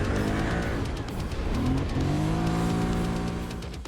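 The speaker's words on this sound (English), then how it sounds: "national ATV motocross racer Aaron Meyer run a timed lap on each machine from a dead stop" A sport ATV launching from a dead stop on a timed lap, its engine loud and close, revving hard and climbing in pitch as it accelerates away.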